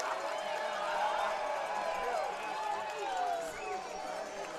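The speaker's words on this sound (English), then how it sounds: "the Rocky Mountain crowd that toughed out the rain delay is letting Hoagland hear it" A baseball crowd in the Rocky Mountains, having sat through a rain delay, jeers the pitcher after a fielding error: a continuous, distant wash of booing and shouting voices at moderate level, steady throughout.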